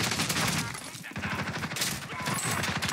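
Rapid bursts of video game gunfire from the rat gun, a dense rattling stream of shots that dips briefly near the middle before resuming, with faint talk mixed underneath.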